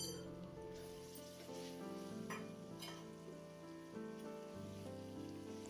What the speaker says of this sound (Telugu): ఇప్పుడు పీతలను వేసుకుని అవి నలగకుండా నెమ్మదిగా కలుపుకోవాలి.